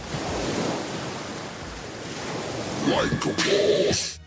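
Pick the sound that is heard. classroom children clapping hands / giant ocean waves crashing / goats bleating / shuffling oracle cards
giant ocean waves crashing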